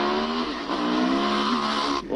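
Motorbikes or scooters riding around a Strasbourg suburb give a loud, steady engine drone with rising revs, nearby and continuous, with no talk over it.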